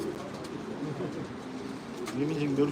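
Pigeons kept in a loft coo softly in low, throaty phrases, fairly faint and close, with light background noise and a voice nearby.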